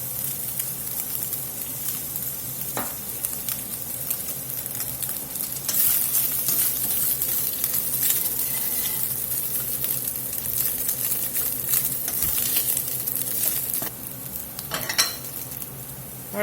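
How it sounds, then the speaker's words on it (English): Meat sautéing and browning in a skillet for poutine: a steady, close sizzle and crackle with occasional scraping and stirring, continuous throughout with no talking. "So we're just going to saute this. So we get some color on this meat."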